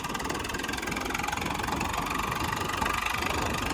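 A Swaraj 855 4x4 tractor with a four-cylinder engine idles up close, a loud, steady, heavy rumble with a rapid knocking pulse and no talk over it.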